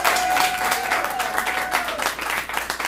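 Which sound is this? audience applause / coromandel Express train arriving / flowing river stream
audience applause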